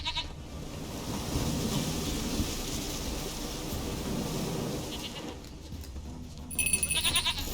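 A goat bleats in The Witcher 3: Wild Hunt, set against a steady bed of ambient game sound, with a brighter burst of bleating near the end.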